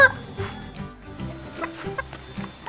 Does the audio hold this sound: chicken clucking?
yes